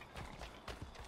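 Horse hooves clip-clopping in Assassin's Creed III, a quick run of close, loud hoofbeats with a brief neigh-like tone, steady and uneven across about a second of riding.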